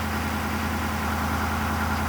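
A Ford 6.7L diesel engine idles after a cold start in -20°C weather, giving a steady, loud mechanical rumble with an even, unbroken drone and no voices.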